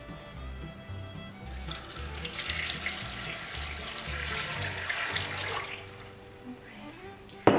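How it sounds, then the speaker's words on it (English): Water from a quart measure pours steadily into the metal bottom of an Instant Pot for several seconds, a bright continuous splash that swells and then tapers off, heard close up before a closing clunk. "I'm gonna pour about 1 quart of water into the bottom, and this just helps the pumpkin not scorching on the bottom"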